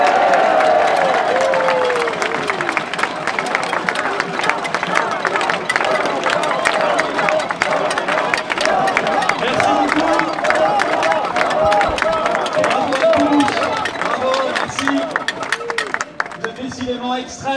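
A large crowd at a 2021 Paris rally applauds and cheers continuously, dense clapping mixed with shouts and babble from nearby, fading slightly toward the end.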